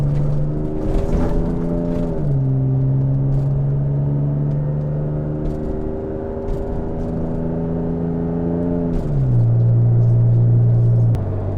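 Steady engine drone and road rumble inside a Toyota Tacoma cab while driving, with low engine tones that shift pitch as the truck changes gears, loud and continuous throughout.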